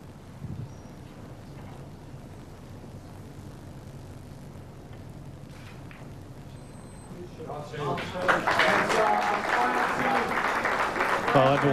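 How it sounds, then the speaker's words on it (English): An audience at a 1995 ladies' pool final breaks into applause after a quiet stretch of room murmur, the clapping swelling suddenly and staying strong to the end. "everyone's applauding"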